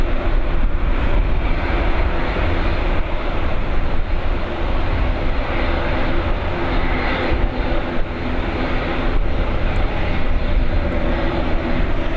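An arriving airliner at Dublin Airport on runway 28L, a loud, sustained broadband engine roar that holds steady and close for the whole stretch, with no voices.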